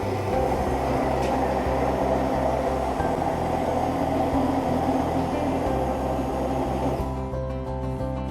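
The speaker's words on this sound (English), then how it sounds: "With an immersion blender, we mix everything." A loud, steady electric motor whirs with a buzzing hum, its pitch shifting slightly near the end as the load changes.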